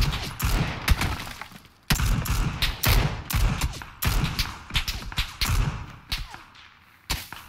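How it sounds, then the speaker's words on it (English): Rapid bursts of gunfire in the battle royale game PUBG, dense volleys of shots coming in clusters with brief gaps, loud and close with sharp cracks and thuds throughout. "Such. Many fucking shots."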